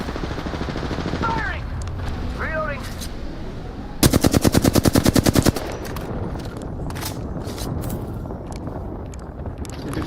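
Rapid bursts of automatic gunfire in the DayZ video game, a loud dense volley in the middle after scattered shots and background battle noise, with voices talking underneath.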